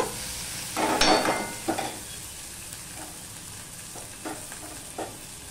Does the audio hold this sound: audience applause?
no